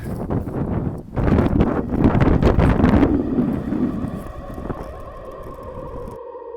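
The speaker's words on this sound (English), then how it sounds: "There's only one way to Sparwood, and that's right into the wind" Strong headwind buffets the microphone while cycling toward Sparwood, loud gusty roaring for a few seconds that then eases into a lighter, steadier rush of air.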